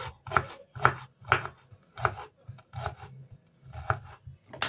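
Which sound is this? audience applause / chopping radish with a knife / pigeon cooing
chopping radish with a knife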